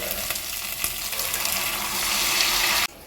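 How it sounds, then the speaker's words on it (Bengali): Water pours into a pan of potato paneer curry, giving a continuous hiss and gurgle over the sizzle that holds strong for nearly three seconds and then cuts off abruptly. "এবার আমি এর মধ্যে দিয়ে দেবো খুব সামান্য পরিমাণ জল"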